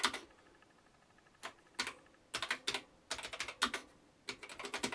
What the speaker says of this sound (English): you can hear it's proper clunky keys